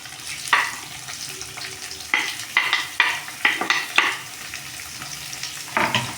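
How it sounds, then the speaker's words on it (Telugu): Onions and green chillies fry in oil with cumin, mustard seeds and dal for a ridge gourd curry, a steady close sizzle broken by about a dozen sharp scrapes of a spoon stirring the pan. "ఇది మంచి గోల్డెన్ కలర్ వచ్చే వరకు మనం ఫ్రై చేసుకోవాలి"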